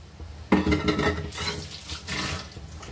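Tamarind juice poured into a pot while making sesame pulihora, a broadband watery splash that starts abruptly and runs on for over two seconds with small clinks of the vessel.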